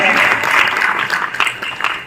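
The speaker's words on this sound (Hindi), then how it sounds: "एक बार जोरदार तालियों के साथ स्वागत कीजिए अपूर्व विक्रम जी का" The crowd at a poetry gathering in Daltonganj breaks into brief, hearty clapping to welcome a poet, with a voice heard amid the applause.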